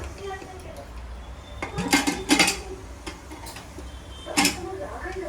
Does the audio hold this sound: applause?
no